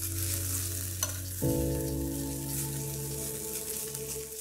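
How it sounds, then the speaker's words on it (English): Tomato paste frying in oil in a pan with vegetables, a steady close sizzle with occasional stirring, the hiss swelling louder partway through and continuing without speech. "to get the flavor out of the paste even more, we're gonna fry it for a couple minutes"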